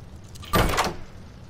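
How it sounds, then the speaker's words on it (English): A door swings open in the Roblox horror game Doors, a single short burst of sliding, rumbling noise lasting about half a second before fading into quiet ambience. "we have the key to open door number one"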